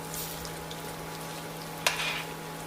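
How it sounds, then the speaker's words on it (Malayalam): Chili bajji frying in hot oil in a home kitchen, a steady soft sizzle with a faint electrical hum beneath and one sharp clink as the pieces are turned partway through. "ഇതിങ്ങനെ മറിച്ചും തിരിച്ചും ഇട്ട് നമുക്കിത് മൂപ്പിച്ചെടുക്കാം"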